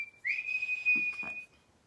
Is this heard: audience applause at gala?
no